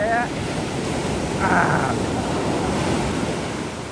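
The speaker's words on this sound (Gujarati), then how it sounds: "બહુ મોજા આવે યાર અત્યારે" Sea waves wash steadily against the shore during a fishing outing, a continuous close rush of surf with a slight swell in the middle and wind noise over the microphone.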